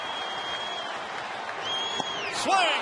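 Baseball stadium crowd at a Tigers home game against Arizona, cheering loudly and steadily with a surge near the end as batter Cabrera strikes out in a late one-run game.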